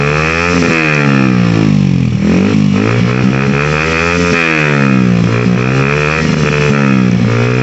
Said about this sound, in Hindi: तो सबसे पहले तो मैं आपको सुनाता हूँ एग्जॉस्ट एक और बार